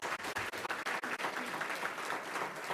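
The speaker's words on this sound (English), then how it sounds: "let's give them a big round of applause" A standing audience of guests at a New York City World Trade Week kick-off event gives a sustained round of applause for trade specialist interns, with louder individual claps up front over steady crowd clapping.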